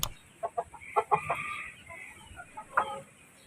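Backyard chickens cluck in short bursts close by, a few quick calls clustered together, then scattered clucks after a pause against a quiet background.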